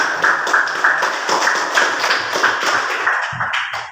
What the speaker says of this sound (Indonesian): tepuk tangan buat kalian semuanya yang sudah